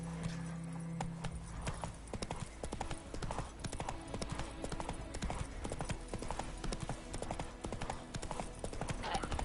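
Hoofbeats of Geralt's horse Roach galloping in The Witcher 3, a steady rapid clip-clop rhythm running the whole time, close and loud over a bed of game ambience and music.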